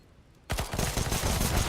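In a competitive shooter match, a sudden burst of rapid gunfire erupts after a brief quiet moment and continues as dense, close, sustained shooting.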